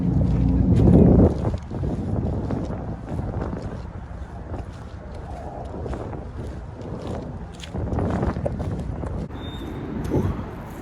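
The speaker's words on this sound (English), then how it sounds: "It's windy out here" Wind blows outdoors in a green, open area, buffeting the microphone in heavy low rumbles that surge and fade, with a voice speaking faintly underneath.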